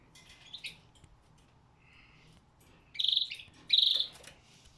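Pet birds in a cage give short chirps, with a few faint tweets early on and then two louder, bright bursts of chirping close by, over a quiet background.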